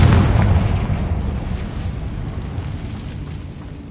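A Confringo blasting spell detonates in Hogwarts Legacy, a heavy explosion heard mid-rumble with a deep roar fading steadily over a few seconds, no voices.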